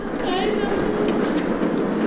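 Homemade ride-on train for dogs running: a continuous rumbling, clattering roll, close and steady, with a voice talking over it.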